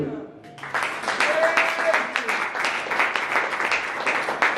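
A church congregation claps and cheers in acclaim of the Lord, dense sustained applause with overlapping voices calling out, steady and fairly loud across the whole stretch.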